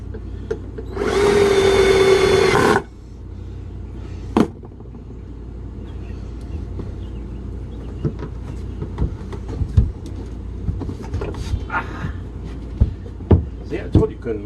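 A handheld power tool drives a screw into a pre-drilled hole. A loud, close whirring burst lasts about two seconds, then quieter scattered knocks and clicks follow.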